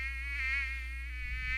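A mosquito buzzing close by, a steady, high, whining drone that wavers slightly in pitch over a low background hum, with no voices.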